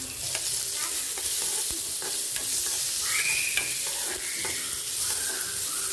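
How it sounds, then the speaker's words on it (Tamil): Tomato and spice paste sizzles steadily in a hot pan while a spoon stirs it, with soft scraping strokes and a few higher squeaks over the constant frying hiss in a home kitchen. "நல்லா வதக்கிடலாம்."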